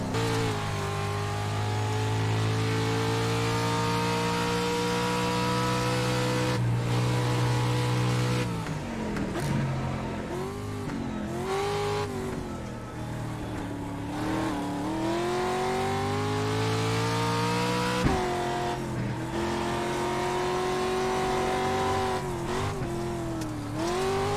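Engine of a car in a racing video game, played on a budget motion simulator, revs and shifts continuously, with the pitch climbing and dropping through gear changes and a brief bump near the end, loud and without voices.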